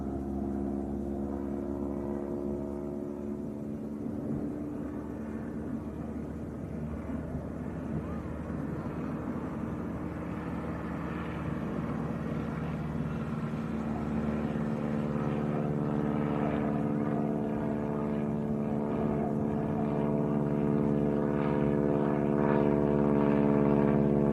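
An old propeller aeroplane at a wing-walking display at Leeds East Airport: a steady, droning engine hums at moderate distance, its tone holding level and swelling slightly toward the end.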